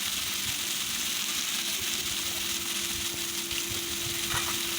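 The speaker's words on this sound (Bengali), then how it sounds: "অল্প জালে আস্তে আস্তে নাড়িয়ে নাড়িয়ে বিটটা আমার ভাজা করে নিতে হবে" Beetroot with salt fries on low heat in a pan with a steady, close sizzle and soft scraping as it is stirred, running without a break.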